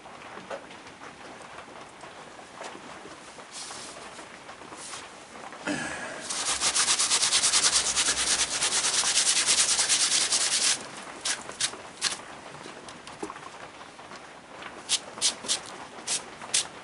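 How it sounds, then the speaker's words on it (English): Sawdust filler rubbed and packed into a crack in a pine bowl, a continuous close gritty scrubbing that grows louder and denser midway, then turns into scattered sharper scratches. "You just keep rubbing it in till you fill it up"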